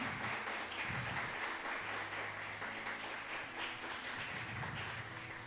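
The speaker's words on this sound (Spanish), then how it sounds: "Un aplauso para el Señor." Congregation applause at a Spanish-language church service, a steady wash of clapping sustained throughout, loud and continuous with a faint low musical hum beneath.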